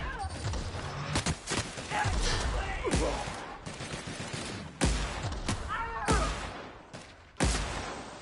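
Repeated gunfire bursts from The Outer Worlds, several sharp loud shots and volleys spaced across the stretch, with game ambience between them and a voice speaking briefly.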